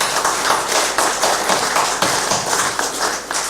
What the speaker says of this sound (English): So please, a big round of applause for you guys.